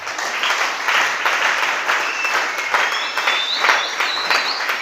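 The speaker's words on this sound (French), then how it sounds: "On acclame la parole de Dieu." A church congregation applauds steadily and loudly throughout, a dense wash of clapping close by with no talk over it.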